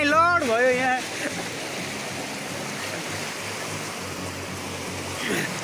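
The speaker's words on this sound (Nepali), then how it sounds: "ठुलो भेल आएको छ यहाँ चाहिँ एकदम डेन्जर छ" Tinau river in flood, its rushing water a loud, steady roar that fills the whole stretch, with a short burst of voice at the very start before the torrent carries on alone.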